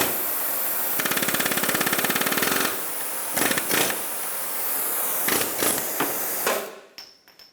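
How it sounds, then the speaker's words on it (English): An air chisel hammers at a front wheel bearing race on a 2014-2019 Kia Soul, rapid loud metallic bursts in several separate runs with short pauses, ending in a hiss and fading clatter. "then use an air chisel to get it off"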